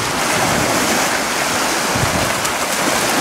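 Waves washing onto the shore of Lake Sevan, a high mountain lake in Armenia more than 1.5 km above sea level, form a steady, loud, unbroken rush of surf with no voices.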